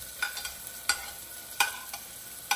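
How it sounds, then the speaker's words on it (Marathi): Chopped onion fried in tempering oil inside a pressure cooker, giving a soft steady sizzle with a few sharp scraping strokes of a spoon against the metal, close and with no one talking. "मी हे बघ कांदा फोडणीला टाकते"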